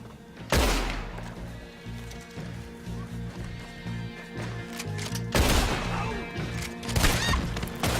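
Gunfire rings out in the video game Red Dead Redemption II in two loud clusters of sharp gunshots, with horse hooves and ambient game sounds between them.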